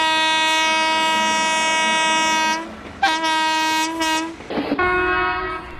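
An Indian Railways train horn sounds a signal pattern: one long loud blast of about two and a half seconds, then a short blast, then another long blast, close and unaccompanied by talk.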